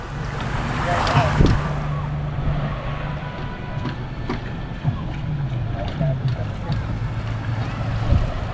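Motor boat moving at sea, a steady low engine drone under wind and wave wash, with a few bumps and knocks and a faint voice in the background.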